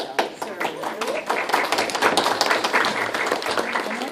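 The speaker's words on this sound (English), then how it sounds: "So I was going to give you all these round of applause." Round of applause for nursing assistant graduates at a summer graduation ceremony, heard as scattered hand clapping from a crowd under a speaking voice.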